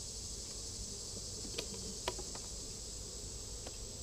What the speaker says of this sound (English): Fair amount of bees up here.